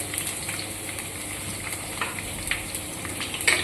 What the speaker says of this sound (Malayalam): ഇതിനെ ഒന്ന് നമുക്കൊന്ന് വാട്ടിയെടുക്കാം